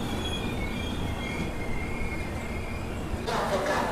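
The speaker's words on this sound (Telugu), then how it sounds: "మన ట్రైన్ వచ్చేసి కొల్లాం జంక్షన్కి ప్లాట్ఫామ్ 1కి అయితే వచ్చింది." The Sabari SF Express rolls into platform 1 at Kollam Junction with a steady rumble and rising metallic wheel squeal near the end, loud and close, with faint voices of a crowded platform in the background.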